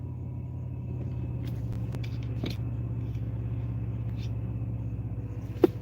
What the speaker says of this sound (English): This is a very busy road, kind of an industrial area.